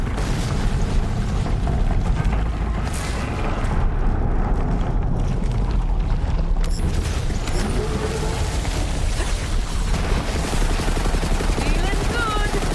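Rapid gunfire and explosive booms from a video game firefight fill the whole stretch, dense and continuous, with a voice speaking over the shooting.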